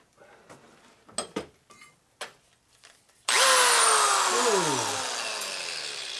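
A few knocks and clunks, then a power drill starts up loudly and runs steadily, its pitch shifting slightly as it bores, close to the listener.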